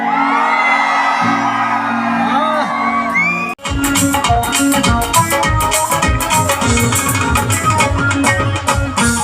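A sustained tone gives way to a loud crowd whooping, cheering and shouting together at a singer's live Dussehra show in Amloh, Punjab, dense and continuous, with voices yelling over one another.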